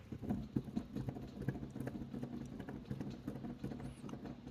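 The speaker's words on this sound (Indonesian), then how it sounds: "Noise dari digital piano yang ini." Mechanical key action of a Delta DDP3 digital piano: soft, irregular thumps and taps of keys being pressed, heard close over a faint background of rain.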